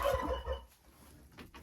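Crested hens in their pen let out a quick run of throaty, gobbling calls that fade out, followed by a brief faint cluck.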